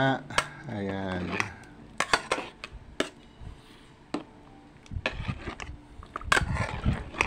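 Sliced banana being stirred in a bowl for a banana dessert, with close clinks and scrapes of a utensil against the bowl in uneven bursts, broken by brief pauses.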